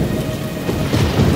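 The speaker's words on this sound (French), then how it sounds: "Du tonnerre et de la tempête se déversaient et commençaient à souffler, tournoyer, formant une tempête si sombre et sinistre" A thunderstorm rolls on with heavy rain pouring steadily and deep thunder rumbling underneath, loud and continuous with no voices.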